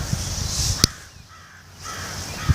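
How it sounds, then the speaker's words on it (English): Crows raiding Saskatoon berry bushes in a garden give a few loud, sharp caws close by, separated by brief quiet gaps. "the birds are thoroughly raiding our Saskatoons"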